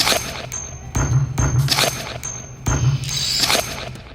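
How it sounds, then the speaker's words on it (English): A custom ding sample loops in quarter notes, bright metallic pings repeating at an even pace over a thumping low backdrop, loud and close with no talking. "I'm just going to have it go ding, ding, ding, ding, ding."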